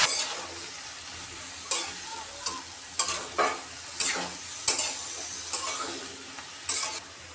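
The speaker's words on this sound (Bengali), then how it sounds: "এখন আমি সিমগুলো দিয়ে দিব।" Flat beans with dried chilies frying in a wok, a soft steady sizzle punctuated by about ten sharp spatula scrapes and clanks at an uneven rhythm, close by.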